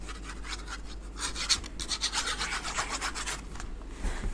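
A bone folder rubs along paper edges in a crafting session with Stampin' Up! baker's twine and jute trim holders, giving repeated close scraping strokes in an uneven rhythm, quiet and alone.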